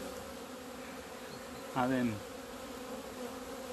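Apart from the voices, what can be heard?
honeybees buzzing at an opened beehive in February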